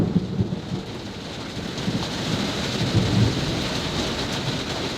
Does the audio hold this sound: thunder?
yes